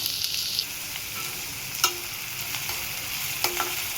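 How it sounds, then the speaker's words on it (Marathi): Onion fries in a pan, a steady soft sizzle with a few stirring clicks and scrapes, close and fairly quiet, no talk. "छान प्रकारे आपल्याला हा कांदा फ्राय करून घ्यायचा आहे."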